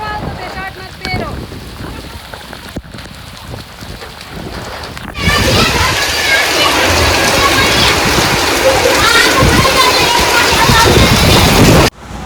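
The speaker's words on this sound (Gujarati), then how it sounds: "કેવો વરસાદ આવે" Heavy rain falls outdoors as a broad, continuous hiss that grows much louder and denser partway through, with wind buffeting the microphone and some voices in the quieter opening section.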